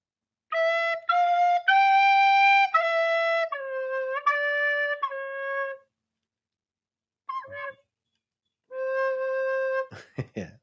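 A recorder plays "Oh When the Saints" as clear, pure sustained notes in a simple melody. The tune stops after about five seconds, a brief squeak follows, then one more held note and a short clattering noise.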